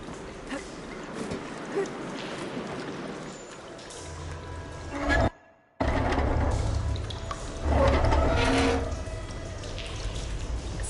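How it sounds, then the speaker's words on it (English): In the game Horizon Forbidden West, water rushes through pipes in a room as a steady pouring flow that cuts out briefly, then resumes louder and surges, with a character's voice heard partway through. "Aloy, I can hear water in the room again."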